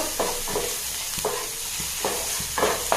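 A spice mixture roasting in a pan for a sardine curry with drumstick leaves: steady close sizzle broken by repeated scraping stirs roughly every half second, with no one talking.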